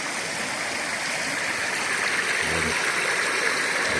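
Steady rushing of a flowing stream, close and continuous, with a brief low rumble partway through.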